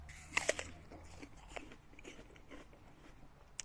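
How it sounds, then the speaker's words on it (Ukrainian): Biting and chewing a crunchy, juicy Frost Bite winter apple, with a couple of sharp crunches up close followed by softer, irregular chewing and mouth sounds. "Вибачаю, що чавкаю."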